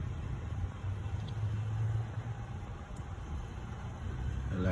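A 2012 Nissan Altima engine runs with the gas pedal held down, a steady, low rumbling drone close by with faint hiss and no voices.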